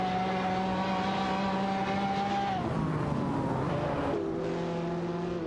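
Jaguar F-Type Project 7 and Mosler MT900 race cars scream along in a video game race, their engine whines dropping sharply in pitch at two gear shifts before climbing again, loud and continuous.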